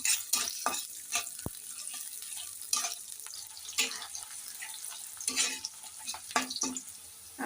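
Chopped garlic and onion frying in hot cooking oil in a pan, a low sizzle broken by repeated scraping stirs and clinks of a spatula, close and fairly loud, with no talking.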